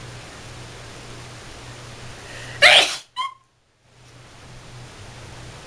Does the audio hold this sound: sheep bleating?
no